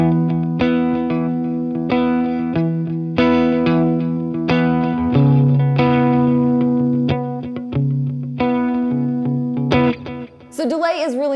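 Electric guitar notes ring out through a delay effect, repeats blurring into a lush wash, ending with a brief voice near the close.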